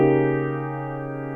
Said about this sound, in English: Here's how that chord would sound if it was not rolled.